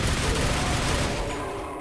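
Super nail gun firing in Quake, a dense, continuous rapid stream of heavy shots with rumbling impacts, loud and close, with no talking.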